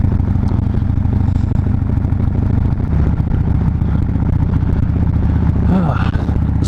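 A motorcycle engine running steadily without being revved, a loud, close, continuous rumble with a rattling mechanical texture, with a brief higher-pitched sound near the end.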